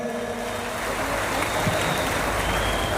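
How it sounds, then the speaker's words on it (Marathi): An audience claps at a Shiv Mahapuran katha gathering in Shirdi, a loud, dense burst of applause that continues for three seconds. "एकदा जोरदार टाळ्या आपल्याला वाजवायच्या आहेत"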